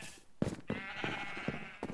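Sheep in Minecraft Bedrock on Nintendo Switch bleat in a string of short, nasal cries against a steady game background, close and moderately loud.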